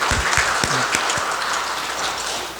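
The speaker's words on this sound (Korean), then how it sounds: "박수 한번 쳐서 주인공 한번 만들어 드립니다" Church congregation at a Korean Sunday afternoon service clapping for named deacons and pastors, a steady crowd patter with a few louder close claps at the start, unaccompanied by speech.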